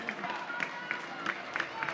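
A crowd at a college softball game between Oklahoma and Tarleton State applauds and cheers after a run scores, with a steady patter of clapping at moderate distance beneath a commentator's voice.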